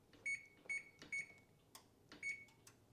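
Beeps from an oven control panel as the temperature is set to 325: four short, bright electronic tones in an uneven rhythm, close and moderately loud, with faint clicks and handling sounds between them.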